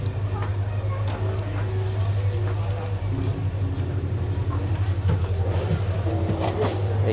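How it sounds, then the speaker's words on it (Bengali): Passenger train pulling out on the Nabinagar, Brahmanbaria to Dhaka run, a steady low rumble and hum of the moving carriages with faint clatter, continuous throughout, with people talking over it. "প্রায় 50 মিনিট লেট করে ট্রেন ছাড়তেছে"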